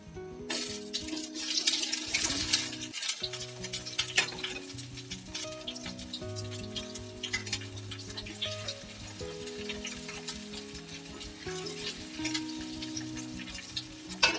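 Green mango pieces for a Bangladeshi-style pickle sizzle steadily in hot oil with a bay leaf, a continuous loud crackling hiss with occasional stirring clatter throughout.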